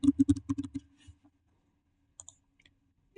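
Fast, close keyboard clicks burst out while text is typed on a computer keyboard in AutoCAD, followed by near silence and a few isolated key taps.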